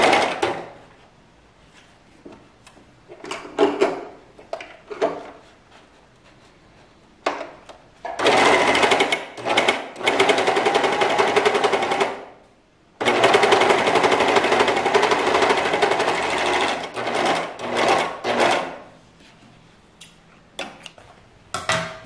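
A Singer Ultralock 14HD854 overlock serger stitching through folded thick fabric, in bursts of steady loud motor whir and rapid needle clatter, the longest runs lasting several seconds, separated by short pauses.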